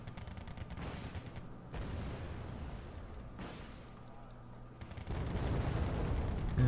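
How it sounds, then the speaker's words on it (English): MiG-29 jet bombing in a video game: low, rumbling explosions and artillery-like booms swell and fade, heavy and distant-sounding, with a louder burst near the end under faint voices. "Oh, MiG-29's bombing again."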